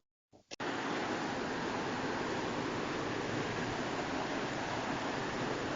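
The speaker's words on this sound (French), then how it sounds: "là c'est le bruit de la rivière qui coule" A river flows behind a garden wall in Nairobi, Kenya, as a steady, even rush of water. It cuts in abruptly after a couple of faint knocks and then continues unchanged and close by, with no voices.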